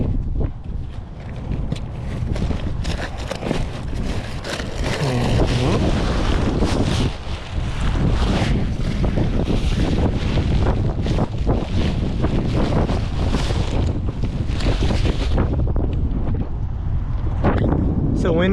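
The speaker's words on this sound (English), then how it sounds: "So winds are about 15 knots right now, good for 12 meter." Wind of about 15 knots blasts across a kitesurfing beach, a loud, constant roar buffeting the microphone for the whole stretch, with faint surf underneath.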